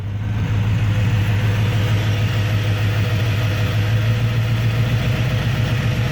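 An engine fitted with a Thunderhead289 Holley carburetor idles at a low, steady speed, a loud, continuous close-up rumble with an even tone throughout.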